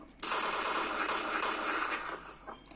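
Rapid automatic gunfire in the video game PUBG, a sustained dense burst lasting a couple of seconds at moderate loudness.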